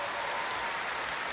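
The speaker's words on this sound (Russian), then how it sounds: "Пожалуйста, аплодисменты за эти прекрасные слова." Concert audience applause at the New Wave festival, a brief, thick, uniform wash of clapping from a large crowd, heard at a moderate distance.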